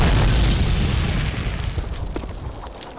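A mortar shell explodes in Call of Duty, a heavy low boom that starts loud and rumbles away slowly over a few seconds, with no talking.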